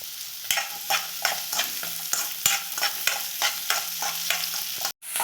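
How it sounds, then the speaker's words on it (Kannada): Garlic, ginger and onion frying in a pan, a close, loud sizzle with a steady rhythm of scraping stirs about twice a second, broken by a brief cut near the end. "ಬೆಳ್ಳುಳ್ಳಿ ಶುಂಠಿ ಹಾಕ್ತಾಯಿದ್ದೀನಿ ಒಂದು ಈರುಳ್ಳಿ ಹಾಕ್ತಾಯಿದ್ದೀನಿ ಇದನ್ನೆಲ್ಲ ಸ್ವಲ್ಪ ಹಸಿ ವಾಸನೆ ಹೋಗೋ ತನಕ ಫ್ರೈ ಮಾಡ್ಕೊಬೇಕು"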